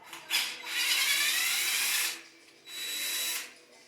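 An electric power tool whirs in two bursts, a long one then a shorter one, as it spins bolts out of a 1963 Harley-Davidson Panhead motorcycle, close and loud with a brief pause between.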